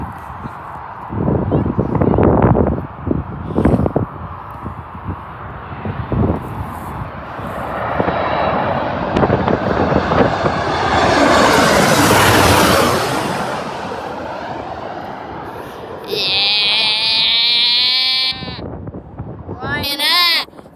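A Ryanair airliner landing at Birmingham airport swells into a loud jet roar, peaks close overhead, then fades as it passes, while people talk and call out nearby.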